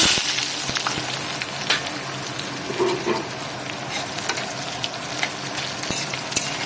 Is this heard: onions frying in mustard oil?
yes